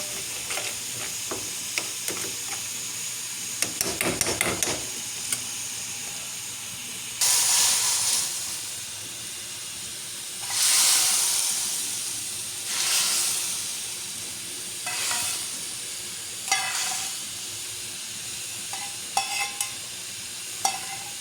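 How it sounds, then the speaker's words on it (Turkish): Bursts of sizzling and hissing from a pot of cooking soup come and go, with stirring and steam whooshing in between; close and fairly loud, no talking. "Valla çorba pişiriyorum ya."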